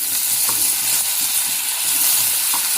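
New potatoes frying with spring onion stalks in a pan, a loud constant sizzle close up with faint occasional stirring taps.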